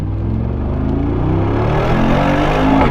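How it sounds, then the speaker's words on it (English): A 900-horsepower Brabus biturbo V8 pulls hard under acceleration, a loud, dense engine roar rising steadily in pitch over a few seconds, heard close from inside the car. "It's a biturbo V8, 900 horsepower. Rocket engine by Brabus. That's why it sounds like that."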